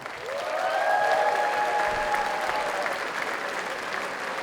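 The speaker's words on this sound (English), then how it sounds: "Please give her a round of applause." Sustained applause from an audience at the opening ceremony of a 2015 FIRST Robotics competition event in Mount Vernon, a steady even wash of clapping that tapers slightly toward the end, with faint tonal hum above it.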